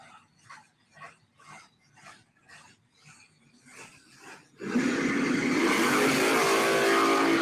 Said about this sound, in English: they do a little bit of burnout action here.